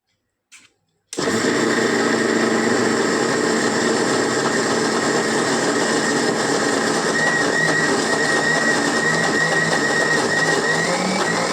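After a brief click and a short pause, a mixer grinder whirs up to full speed, grinding soaked dal with no water added. Its loud, steady motor roar continues without a break.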